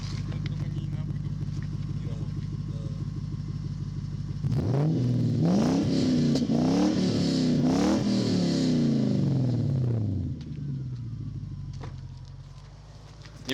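A Lexus GS 300 with aftermarket exhaust mufflers idles, then revs repeatedly in several sharp rising-and-falling bursts before settling back to a steady idle, fairly close and moderately loud.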